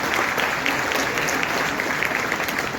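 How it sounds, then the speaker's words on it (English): Audience applause at a first-year engineering college orientation in Thane, India: steady, dense clapping from a large crowd, loud and continuous for the whole stretch. "So big round of applause for the team."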